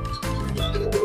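Racing pigeons in a loft give soft, close coos and low calls, with brief rustling among the birds during a short moment.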